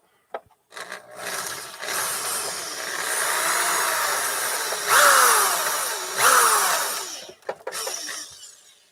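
A drill bit bores out an old 3/8-inch wooden dowel during restoration of an antique bird's-eye maple cello, giving a steady close grinding rasp of several seconds that swells twice before stopping, with no talk.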